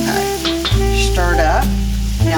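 Fried rice stirred around a pan, steady scraping and soft frying noise running under melodic background music.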